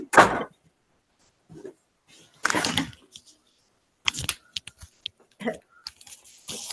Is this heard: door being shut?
yes